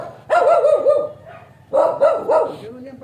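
Dog barking nearby, two loud bursts of several sharp barks separated by a short pause.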